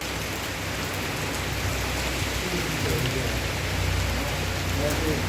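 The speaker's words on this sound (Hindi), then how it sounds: "तेज आंधी के साथ बारिश हुआ लागल" Heavy rain driven by strong wind during a sudden storm in Mithila, Bihar, a dense, loud, unbroken roar of downpour with gusts and no pauses.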